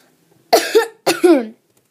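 Two distinct coughs, close and fairly loud, separated by a brief pause, with no speech around them.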